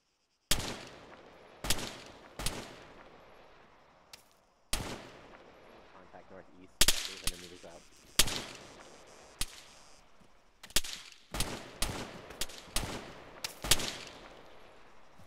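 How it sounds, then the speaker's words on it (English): Gunshots from the video game Arma 3 crack nearby in uneven bursts, sharp loud reports with decaying tails, some single and some in quick clusters, separated by brief gaps. "Shots are landing near me."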